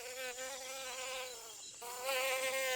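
Dense layered insect chorus in the Congo jungle, steady buzzing and whining drones with stacked trilling tones, continuous and fairly loud throughout, swelling slightly toward the end.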